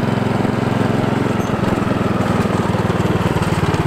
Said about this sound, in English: So now we're just warming up a little bit.